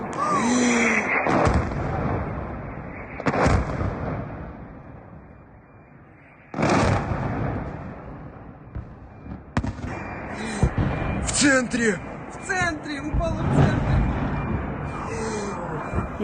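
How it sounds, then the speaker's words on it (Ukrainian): Missile strike explosions in Sevastopol, Crimea, ring out as several heavy booming blasts, loud and roughly evenly spaced, with rumbling echoes and scattered crackling between them and faint voices in the background. "А очевидці зазняли декілька прекрасних вибухів у Севастополі."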